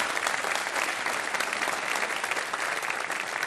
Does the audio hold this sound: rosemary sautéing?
no